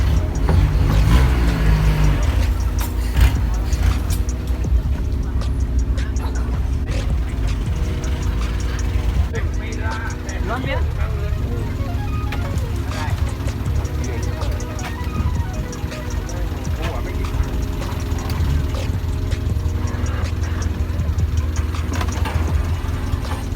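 Diesel or petrol boat engines drone steadily in a floating market traffic jam at Damnoen Saduak near Bangkok, Thailand, a continuous low rumbling hum with layered idling motors throughout.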